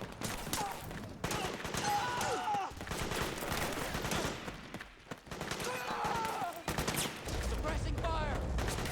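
Sustained bursts of video game gunfire in Metal Gear Solid 4, dense and loud through most of the stretch with brief drops, soldiers shouting over the shooting.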